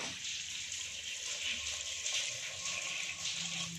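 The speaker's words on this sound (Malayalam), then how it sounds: "ആവശ്യത്തിന് വെള്ളം ഒഴിച്ചു കൊടുക്കണം" Water is poured from a glass over boiled chickpeas in a pot for kadala curry, a faint, steady splashing trickle that lasts a few seconds with no voices.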